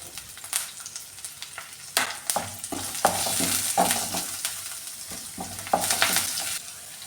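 Carrots, curry leaves and green chillies frying in a pan of hot oil for masala dosa filling, a steady close sizzle broken by repeated scraping stirs and clatters, with no voices.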